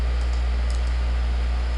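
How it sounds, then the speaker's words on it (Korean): A computer mouse clicks repeatedly while the keyboard Ctrl key is held, selecting items in shader software. About four light, quick clicks sit over a loud, steady low electrical hum. "키보드의 컨트롤을 선택한 다음에 클릭 클릭 클릭 클릭"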